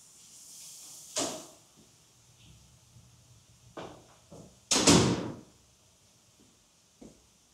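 A door opening in a hotel room in Osaka gives one sharp knock near the start, a few lighter clunks, then a loud close thud and a small click at the end, with no talk.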